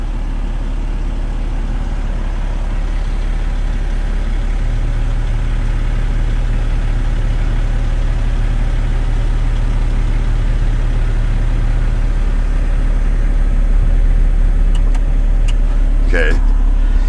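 A haul truck's engine idles in its cab with the hood up, a steady low rumble throughout, while a person talks over it and a few brief clicks come near the end.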